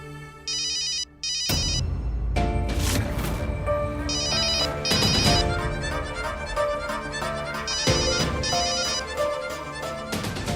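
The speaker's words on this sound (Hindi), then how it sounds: "कहीं तो फोन बज रहा है।" A telephone rings in repeated electronic trilling bursts, loud and near, over a busy background of music and other sound, with no talking.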